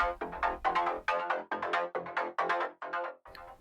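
Synthesized trance bass line pattern with octave changes, a punchy sequence of short pulsing notes in a quick even rhythm that jumps between registers, loud and alone for a few seconds.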